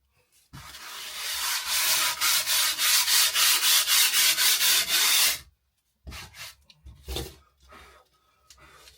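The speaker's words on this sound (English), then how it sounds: "I'm going to give them a slight rub down" Venetian plaster on a sample board being rubbed down by hand, a close, steady run of rhythmic scraping strokes for several seconds, then a pause followed by a few shorter, lighter rubs.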